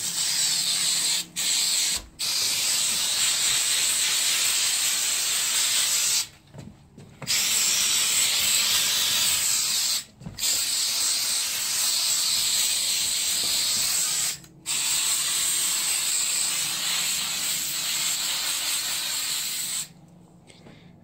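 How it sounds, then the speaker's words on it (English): Aerosol coil cleaner sprayed into a home air conditioner unit, a loud continuous hiss in long bursts separated by short pauses, close to the microphone. "But just spray everything in the air conditioner that you can."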